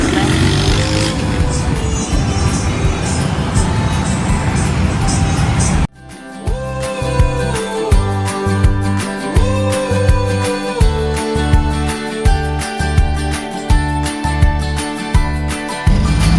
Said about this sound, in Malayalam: എപ്പോഴും ഇവിടെ ട്രാഫിക് ബ്ലോക്ക് ഉള്ള ഒരു സ്ഥലമാണ്